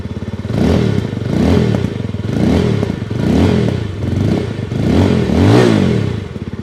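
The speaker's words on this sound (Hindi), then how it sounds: "अब एक बार मैं आपको साउंड भी सुनवा देता हूँ विद डीबी किलर, इस बाइक का साउंड कैसा आता है" A 2025 Yezdi Roadstar motorcycle with its dB killer fitted idles and is revved up and down several times, its engine note rising and falling in steady waves, loud and close with no talk.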